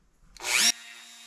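A Dremel rotary tool fitted with a small carbide tip grinds a rusty Bridgeport mill vise in one brief, harsh burst of whining abrasion, then settles into a steady motor hum as it lifts off the metal.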